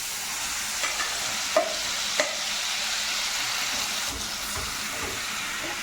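Butter cream melting in a pan over a gas flame for homemade desi ghee, giving a steady, soft frying sizzle throughout, with a few faint clinks of stirring.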